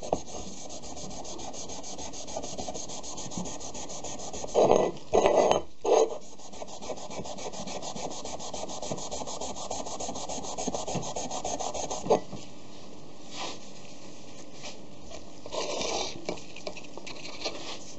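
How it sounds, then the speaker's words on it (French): Hand sanding of a black cannon surface, with a steady close rubbing and rasping scrape that runs continuously, broken by a few short louder scuffs and then quieter intermittent strokes. "On va enlever le maximum. Après, si on frotte vraiment bien, on finit par l'enlever."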